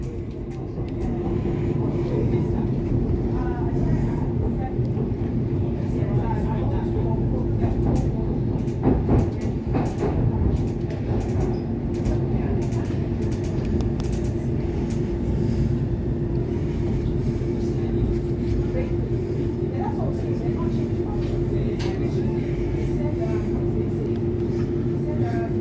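A DLR B23 stock train runs between Pontoon Dock and West Silvertown, heard from inside as a steady low rumble with rattles and occasional clunks, loud and continuous throughout.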